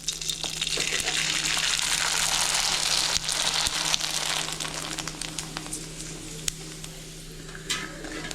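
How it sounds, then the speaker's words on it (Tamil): Sun-dried sago javvarisi vadam crackles and sizzles as it fries in hot oil, a dense, fairly loud bubbling hiss that runs continuously with scattered sharp pops and a light utensil tap or two. "வத்தல் போட்டு பொரிச்சு பார்க்கலாம்"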